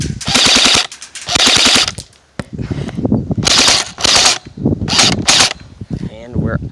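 A Black Ops MK5 Viper M4 airsoft AEG fires several loud full-auto bursts, each a fast mechanical buzzing rattle of about a second, separated by short pauses and lighter handling noises.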